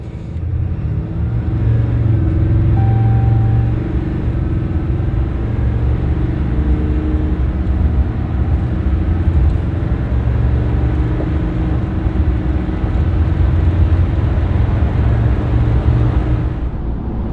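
A 2024 RAM 3/4-ton Cummins diesel pickup with a 6-speed, 37-inch tires and a 5-inch lift roars and revs up accelerating, a deep, rumbling drone that builds and holds strongly throughout, loud and close.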